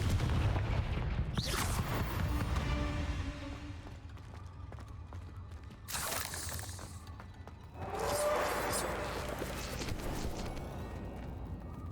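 Fiery explosions and booming blasts from a Confringo spell in the Hogwarts Legacy video game, loud rumbling bursts with crackling debris, layered with game music and combat effects.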